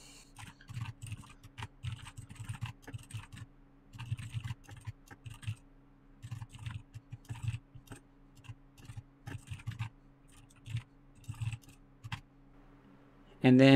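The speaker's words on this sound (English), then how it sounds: "So let me type these in real quick." Typing commands on a computer keyboard: bursts of quick key clicks separated by short pauses over a faint background hum, ending with a louder sound at the close.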